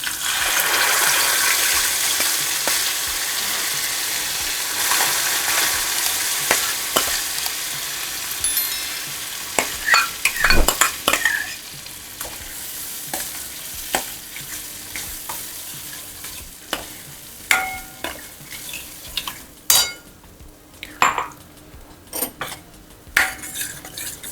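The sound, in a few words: cooking dal added to tempering for tamarind-jaggery aamti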